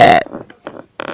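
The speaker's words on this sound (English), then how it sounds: "I can't stop burping" A long, loud burp opens the moment, followed by a few short voiced sounds and a brief breathy noise, close to the mic.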